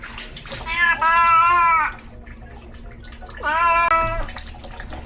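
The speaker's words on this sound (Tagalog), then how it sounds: "Grabe din ba ang meow-meow niya mga kamuma." A cat meows loudly twice while being bathed, each long drawn-out yowl close to the microphone, separated by a quieter pause with faint background noise.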